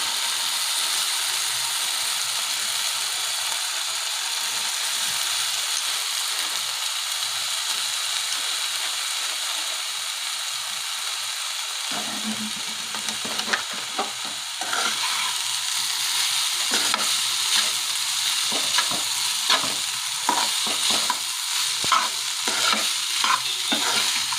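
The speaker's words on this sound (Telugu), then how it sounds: "మనం పక్కన డ్రైన్ చేసి పెట్టుకున్న నూడిల్స్ని ఇప్పుడు వీటిలో వేసేద్దాం" Drained millet noodles go into a hot pan and get stirred, starting with an even sizzle and then turning into repeated scraping and tossing sounds against the pan over the frying hiss.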